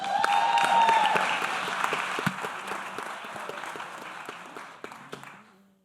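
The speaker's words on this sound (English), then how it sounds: "let's hear a round of applause for her being a tremendous role model for our students" An audience at a youth program's pitch competition event gives steady applause, a dense wash of many clapping hands with a few louder close claps, fading out toward the end.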